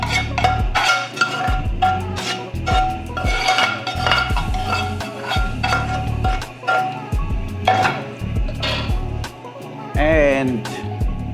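Aromatics and vegetables are tossed back into a pan of Indomie noodles, producing steady clinks and scraping of utensils against the pan, close and fairly loud under someone talking throughout.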